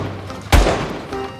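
A toy Nerf Magnum pistol fires twice, each shot a sharp, close thump about a second apart, with quiet in between.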